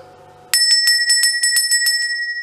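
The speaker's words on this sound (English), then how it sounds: "Oh yeah, I have a small brass bell here." A small brass temple bell rings rapidly about ten times, bright and sustained, each strike layering onto a clear shimmering tone that rings on after the last hit, close and loud.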